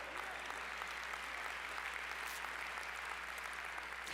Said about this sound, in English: Now you clap on that point, but how well do you live it?